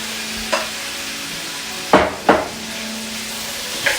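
Pieces of chicken breast cooking in a pan are stirred, giving a few scattered scrapes and knocks, with two louder clunks in the middle, over a quiet, steady sizzle.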